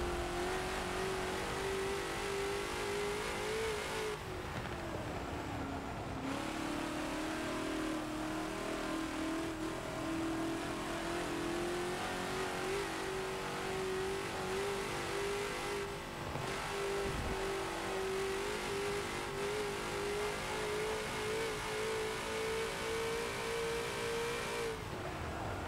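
A TNT GT40 race car engine in Forza on the Nürburgring roars steadily and loudly for a long stretch, its pitch dropping on downshifts and rising again through several gear changes, with constant road and wind noise and no talk.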